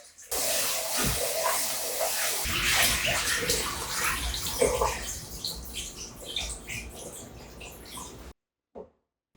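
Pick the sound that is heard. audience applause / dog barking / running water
running water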